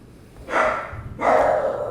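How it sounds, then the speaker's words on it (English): A dog barks twice, two short muffled woofs spaced about a second apart, heard indoors in the background at moderate volume. "That's my dog in the background."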